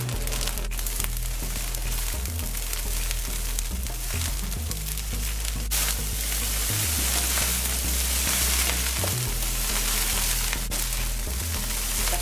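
Fried rice sizzling in a pan after salt and five spice powder go in, a steady, loud frying hiss with crackle running the whole time, close and alone with no talk.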